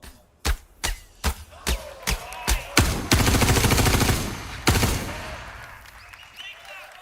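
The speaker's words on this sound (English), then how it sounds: "And then this next demo, we're going to fire some bullets." Gunfire in a Star Citizen StarEngine tech demo: seven sharp single shots at a steady rhythm, then a loud sustained automatic burst, a final crack and a fading echo.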